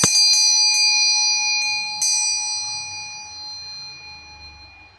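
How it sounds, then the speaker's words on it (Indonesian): A bell rings as a signal to start, struck twice close by, about two seconds apart, each strike leaving a bright, long ringing tone that slowly fades. "saya akan memberikan suatu tanda lonceng berbunyi untuk memulai"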